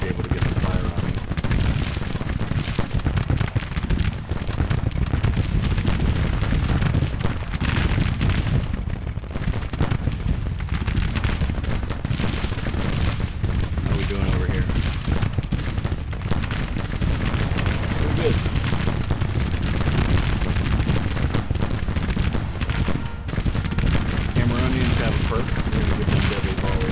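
Dense Civil War battle in Grand Tactician, with continuous musket volleys and booming artillery rumbling steadily throughout, and a voice talking over the din.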